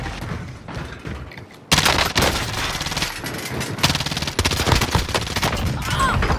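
Rapid bursts of gunfire crackle in a PUBG-style battle royale game, loud and near: sustained automatic fire with a sharp jump in intensity partway through, then continued dense shooting with no pause.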